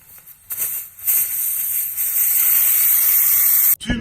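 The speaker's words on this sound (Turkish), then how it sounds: "İçerisindeki havayı çıkarmak için bir parça daha açıyorum bunu." Loud, sustained hissing as a pressure cooker cooking sheep's head and trotters vents steam, rising after a few brief bursts and holding strong before cutting off abruptly.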